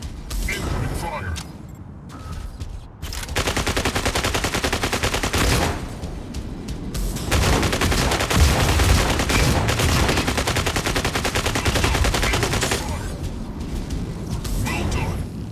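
Incoming automatic gunfire in the Mech Arena combat game, dense and loud sustained bursts with short breaks between volleys, over a game soundtrack.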